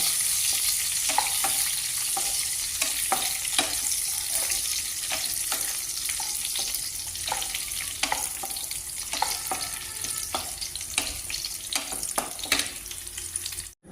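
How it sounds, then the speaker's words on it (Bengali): Peanuts fry in a pan with a continuous close sizzle, punctuated by frequent sharp clinks and scrapes as they are stirred, ending abruptly. "বাদামগুলো ভাজা উঠা লাগছে।"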